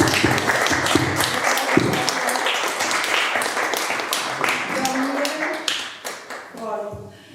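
Audience clapping at a book presentation, a dense steady patter of many hands that carries through most of the stretch, thinning toward the end while a voice comes in over the last few seconds.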